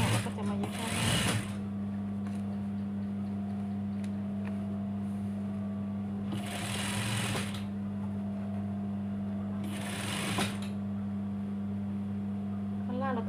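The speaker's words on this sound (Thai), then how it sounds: "อันนี้ข้างหน้าก็จะมาเย็บข้างหน้า" A sewing machine stitches the front of a sleeveless round-neck dress in three loud bursts of rapid whirring, separated by a steady low motor hum and a voice speaking nearby.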